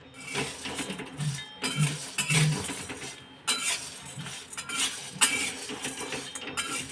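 Whole Malvani masala spices dry roast in a pan over medium heat, heard as close, irregular metallic scraping and clinking of a spoon or spatula stirring against the pan, with no voices.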